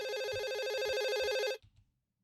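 A telephone rings in a horror video game: one long, bright, trilling electronic ring that cuts off abruptly, followed by a few faint low thumps and then near silence.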